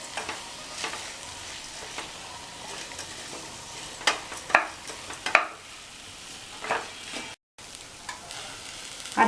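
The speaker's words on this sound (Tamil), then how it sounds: "சேர்த்ததுக்கப்புறம் மறுபடியும் இதை வந்து ஒரு 2 நிமிஷம் வதக்கிக்கணும்." Rice with green peas is sautéed in a pan for pulav, with a steady soft sizzle and repeated scraping stirs and utensil clicks, including a few sharper knocks.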